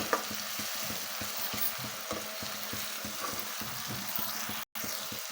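Tomatoes sizzle steadily in a pan for a village-style chicken curry, a close, continuous frying crackle with rhythmic stirring scrapes throughout and a brief cut near the end.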